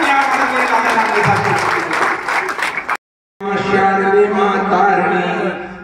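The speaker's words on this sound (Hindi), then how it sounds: "जोरदार तालियां बजाकर" An audience at a teachers' felicitation event gives loud sustained applause, dense clapping heard under someone speaking, broken by a brief gap before music with singing starts.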